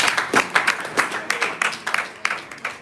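Audience at a graduation ceremony clapping in a sparse, uneven patter of individual claps, moderately close and fairly loud, with no voices over it.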